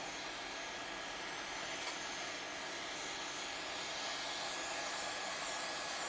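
A hot air rework station blows heat at full power without a nozzle onto a circuit board during a repair, giving off a steady, even hiss of rushing air that holds throughout at a modest level.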